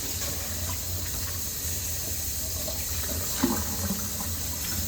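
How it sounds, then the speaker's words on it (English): Water runs steadily from a tap into a sink, a constant broadband hiss with a low hum underneath and a faint clink partway through. "Get some hot water going again."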